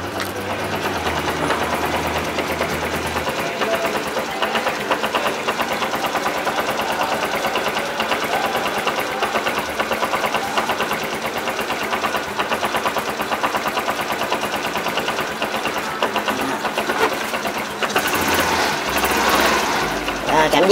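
Small-displacement engine of a 1994 Honda Super Cub Custom 70 motorcycle running steadily up close, a fast, even, buzzing idle with a slight rev rise near the end.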